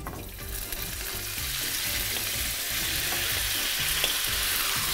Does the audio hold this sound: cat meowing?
no